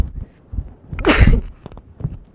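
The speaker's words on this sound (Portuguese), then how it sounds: "Aí eu vou espirrar." A single sharp sneeze bursts out close and loud in a quiet room, with faint low rustling before and after and no talking.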